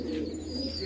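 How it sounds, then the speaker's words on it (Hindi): A female pigeon cooing close by on a bird farm near Hyderabad, a low soft throaty coo running steadily through the brief moment. "ये कबूतरी देखिए आप, बहुत खूबसूरत कबूतरी है माशाल्लाह"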